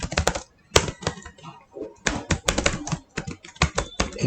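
Rapid bursts of keystrokes on a computer keyboard while writing web code, crisp and close, clacking in irregular clusters with short pauses between runs, no voices.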